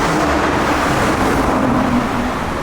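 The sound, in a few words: Lamborghini Urus SUV engine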